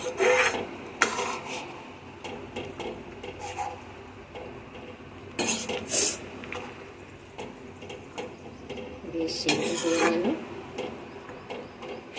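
A spoon or spatula scrapes and rubs through pumpkin greens and lentils in a metal pot in a few rough, rasping bursts spread over several seconds, with quieter clinks and background room noise between them.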